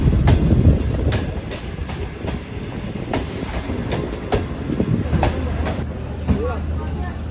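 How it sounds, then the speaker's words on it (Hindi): The Pak Business Express passenger train runs on rails between Lahore and Karachi, a loud continuous rumble with rhythmic clickety-clack wheel beats and occasional squeals, close by, with a voice talking over it. "तो ये नवाबों के शहर में फाइनली हमारी ट्रेन पहुंच चुकी है"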